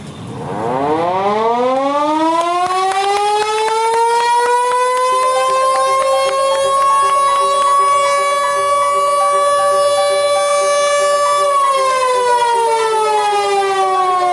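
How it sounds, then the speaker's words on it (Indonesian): A civil defense siren at an official ceremony in Gorontalo, Indonesia winds up from low to a loud sustained wail, holds steady, then begins dropping in pitch near the end. "penekanan tombol sirine"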